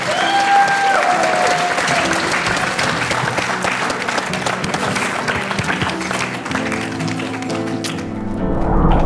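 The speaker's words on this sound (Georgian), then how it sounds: "გავაცილოთ აპლოდისმენტები." A studio audience at a televised singing competition gives a departing singer a long, loud burst of applause, dense and sustained from start to finish, swelling again near the end.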